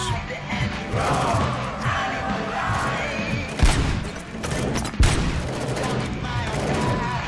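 Dense, continuous gunfire from a RoboCop: Rogue City shootout, rapid shots layered under music with two heavier booming blasts standing out, loud and close throughout.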